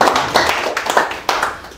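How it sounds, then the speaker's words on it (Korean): Applause from a lecture audience at a business seminar, a short burst of clapping with uneven hand claps rising and falling, fairly close and loud, with no talk over it. "박수 한번"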